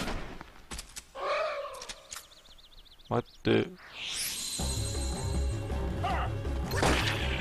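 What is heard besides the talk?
explosions in Kingdom Hearts video game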